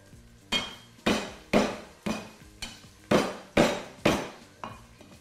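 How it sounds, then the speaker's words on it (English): Garlic cloves are bashed on a kitchen board while making Hainanese chicken rice. About nine sharp, evenly spaced thuds sound close by with no talking. "just bash the cloves"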